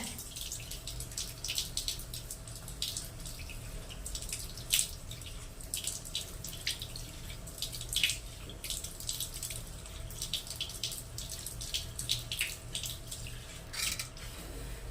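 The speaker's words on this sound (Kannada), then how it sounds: "ಇವಾಗ ಮುಖಕ್ಕೆಲ್ಲ ನೀರು ಹಾಕ್ಕೊಂಡಿದ್ದೀನಿ" Water splashes and drips near a tap as someone washes their face, soft irregular splashes over a steady running trickle, no speech.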